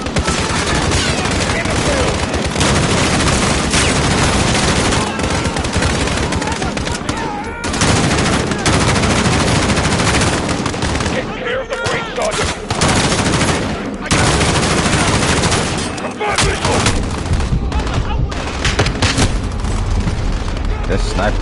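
Dense video game gunfire fills the clip, with sniper shots mixed into loud, near-continuous bursts and booms. Excited voices overlap the shooting, and a few brief gaps break the barrage.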